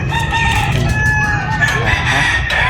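Roosters crow loudly nearby while hens cluck around them, a busy flock of chickens with faint voices in the background.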